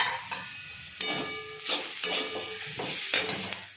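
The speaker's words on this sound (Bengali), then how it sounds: "এবার আদা বাটা, শুকনো লঙ্কার গুঁড়ো আর জিরের গুঁড়ো দিয়ে আর একটু ভেজে নেব।" Cabbage frying with ginger paste, dried chilli powder and cumin powder, a steady sizzle broken by repeated scraping stirs every half second or so, close to the pan.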